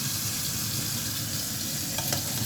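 Onions and spring onion leaves sizzling in a hot pan, a close, even hiss of frying that holds steady throughout, with a couple of small scrapes near the end.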